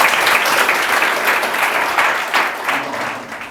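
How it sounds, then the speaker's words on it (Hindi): An audience applauds loudly and continuously, a dense wash of many hands clapping at once that holds steady and eases slightly toward the end. "ताली बजाइए भाई सब।"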